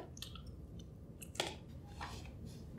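Soft, close crunching and smacking noises of someone chewing food, with a few sharper bites standing out against quiet background.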